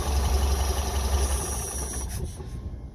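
A six-wheel-drive vehicle's engine idles with a steady low rumble and hiss, then winds down and fades toward quiet near the end as it shuts off.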